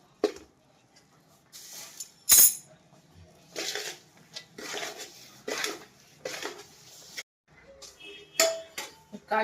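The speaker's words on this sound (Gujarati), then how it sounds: "કાજુ બદામ અને ટોપરું બધું મિક્સ કરી દીધું છે." Cashews, almonds and coconut being stirred together in a pan with jaggery for winter laddoos, the gas switched off. A spoon clinks and scrapes against the metal pan in short irregular bursts, with one sharp knock and quiet gaps between.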